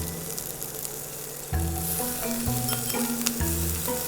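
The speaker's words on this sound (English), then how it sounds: "wait for the anchovies to fry" Anchovies crackle and hiss steadily in a hot wok while nasi goreng kampung is cooked, the frying growing louder midway with repeated metallic scrapes and clanks of a spatula against the wok.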